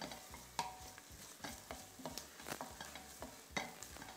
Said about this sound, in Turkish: Hafiften bir tur salçaları kavuracağım.